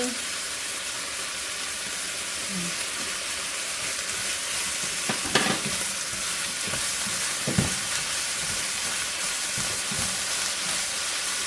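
Gai lan stir-fried in a hot wok with oyster sauce, giving a steady loud sizzle and hiss with a few sharp spatula scrapes and clacks, with no talk.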